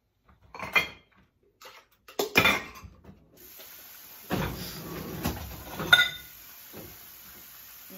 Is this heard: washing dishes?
yes